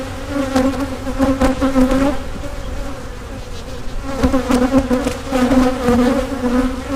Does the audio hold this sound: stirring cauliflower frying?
no